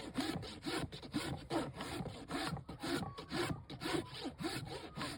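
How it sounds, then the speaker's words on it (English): A rasp is pushed in repeated rhythmic strokes across the bottom third of a horse's flared hoof wall, a close, coarse scraping and rubbing with no talk. "And we'll only rasp the bottom third of the hoof wall."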